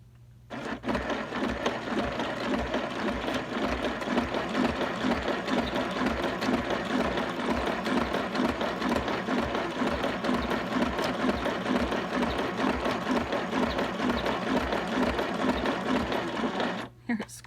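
A sewing machine runs steadily for about fifteen seconds, its rapid rhythmic stitching chatter loud and close, with a low mechanical hum underneath.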